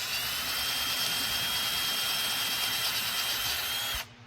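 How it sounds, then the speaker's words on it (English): Power drill boring holes in a car trunk side panel for machine screws, a loud, close, steady whine for about four seconds before stopping abruptly. "Next step is to open up the holes to accept the machine screws I'm going to be using."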